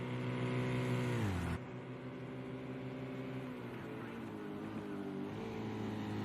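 A GTE race car roars past on the track at Road America, a loud engine note that drops sharply in pitch as it goes by, followed by a lower steady engine drone.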